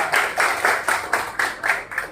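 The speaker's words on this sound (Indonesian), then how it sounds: "Tepuk tangan semuanya." Schoolchildren in an elementary school classroom clap their hands together in a steady rhythm, about eight even, close, loud bursts of applause in quick succession.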